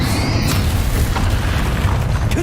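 A Confringo explosive spell goes off in Hogwarts Legacy with a loud, close, low boom that rolls on as a dense rumble, with a few sharper pops on top.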